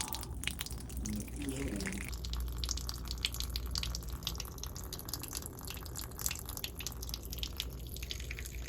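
Water runs steadily from a separated pipe joint beneath a toilet, a constant hissing spatter of leaking water between floors, with a brief voice early on.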